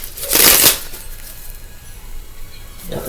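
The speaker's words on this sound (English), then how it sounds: "Let's shuffle a little bit more, Geminis." Tarot cards being shuffled by hand, a loud riffling burst early on that fades into a quiet, steady rustle, with another soft shuffle near the end and no talking.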